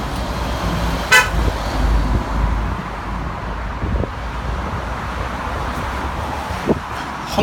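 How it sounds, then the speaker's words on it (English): A car horn gives one short toot beside a road near the Clifton Rocks Railway under the suspension bridge in Bristol, standing out over steady traffic and wind noise, with a few faint knocks afterwards. "Honk your horn at me, boy."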